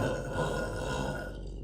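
A single long, rough burp produced on command lasts almost two seconds, loud and close, fading slightly at the end.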